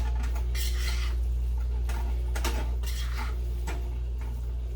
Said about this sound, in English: you're just gonna mix it together